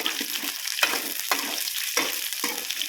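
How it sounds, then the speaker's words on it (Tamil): Bitter gourd sautés in hot oil, a loud, crackling sizzle close up, punctuated by rhythmic stirring scrapes roughly every half second. "இப்போ இதே எண்ணெயில் நல்லா சுருண்டு வர அளவுக்கு வதக்கி எடுத்துக்கணும்"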